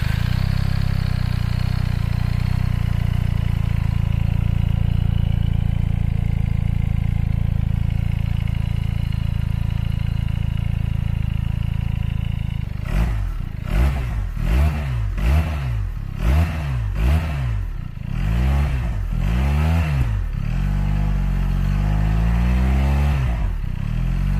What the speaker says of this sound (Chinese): 这台发动机除了数据比较亮眼之外，在小排量双缸车型当中的声浪表现非常突出，特别是在中低转速的时候